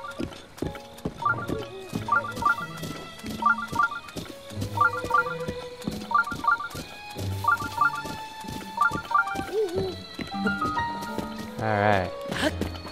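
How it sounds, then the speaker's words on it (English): Horse hooves clop up wooden steps in Breath of the Wild, a steady, repeated clatter of knocks over background game music. "this horse is pretty good at walking up those wooden steps"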